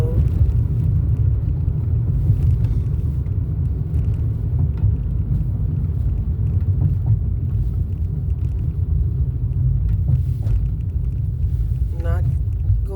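Steady low road rumble inside a moving car, a continuous droning cabin noise throughout with a few faint clicks and a brief voice near the end.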